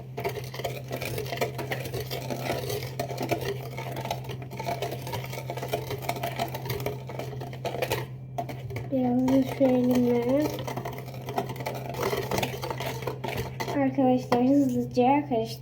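A child stirring cake batter in a bowl, producing a continuous scraping, clinking rattle of a utensil against the bowl under a steady hum, with a voice and adult talk.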